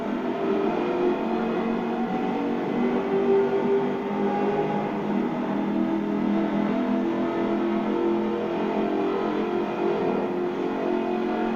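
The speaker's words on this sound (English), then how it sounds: "Powered by a 5-litre V8 supercharged engine, with a fully aluminium body, it's blisteringly fast" A 5-litre supercharged V8 in an all-aluminium car in Forza Horizon 4 drones steadily and loudly throughout, a continuous engine roar with no talk over it.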